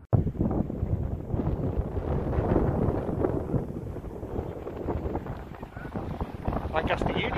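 Steady wind buffets the microphone in a constant low roar that rises and falls slightly throughout, with no clear voices above it, on a light-rain cycling ride in Lancashire.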